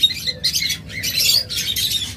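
Caged pet lovebirds, budgerigars and cockatiels chirp in loud, dense, overlapping bursts close by, continuous over a low background hum.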